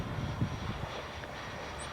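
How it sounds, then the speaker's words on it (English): FreeWing A6 Intruder RC jet with its electric ducted-fan engine spooling up, a steady broadband whine and rush held at an even level for about two seconds, fairly close with no talk. "It has to spool up to get going"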